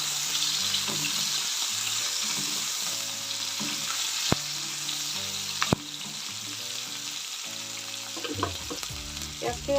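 Chopped onions fry in hot oil in a pan of popped panch phoron spices and dried chili, the base of an Assamese fish curry with spinach. A continuous close sizzle carries a few sharp clinks of the utensil, with a faint tonal hum underneath.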